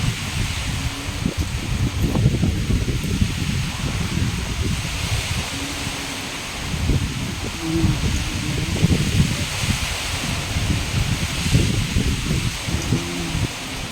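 Strong night wind pushes through trees in a loud, continuous rustling roar of leaves that rises and falls in gusts, with faint brief voice-like tones drifting beneath.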